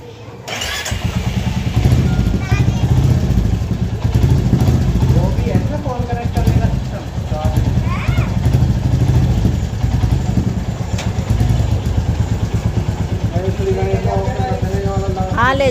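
A new Royal Enfield Bullet motorcycle engine starts and idles with a steady chugging rumble while people talk nearby over it.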